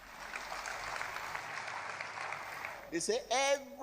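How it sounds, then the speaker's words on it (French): A congregation at a sermon applauds in a moderate, steady wash of clapping that gives way to a voice at the end. "Applaudissez pour lui"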